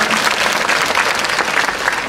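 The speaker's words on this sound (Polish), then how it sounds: "zaprezentujcie państwo oklaski kurtuazyjne" An audience at a concert in a moat venue in Chojnice claps in steady, polite applause, a dense even patter of many hands filling the whole moment with no voices over it.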